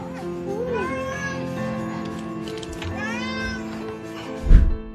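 A cat meows several times, drawn-out rising and falling calls up close, with a soft thump near the end.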